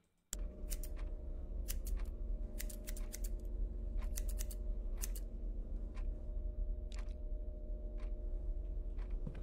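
Sharp scissor snips in a horror video game, a dozen or so brief crisp cuts in irregular bursts over a steady low droning ambience, no talking.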